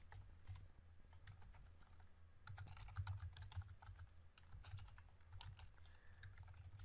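Fingers type code on a computer keyboard in a quiet room, producing a steady stream of soft, close key clicks with slightly busier bursts near the middle.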